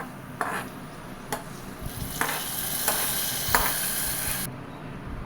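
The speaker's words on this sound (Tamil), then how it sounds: "இப்போ தாளித்த ட்ரை ஃப்ரூட்ஸை நம்ம கீரில் சேர்த்துக்கலாம்." Fried dry fruits stirred into kheer: a ladle scrapes the pot at regular intervals over a constant hiss that cuts off just before the end.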